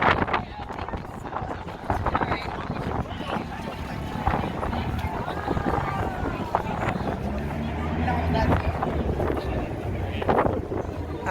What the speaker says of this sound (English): And it's windy right over here. Real windy.